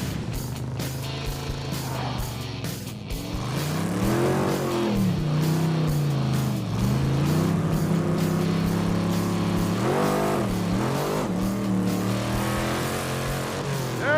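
Roadkill race truck engine roaring under hard acceleration, rising and falling through gear changes, loud and close throughout with steady high-revving drone.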